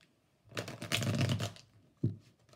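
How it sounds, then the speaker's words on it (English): A deck of tarot cards is riffle-shuffled close by in one long crisp flutter lasting about a second, followed by a short sharp snap as the cards settle. "one more shuffle."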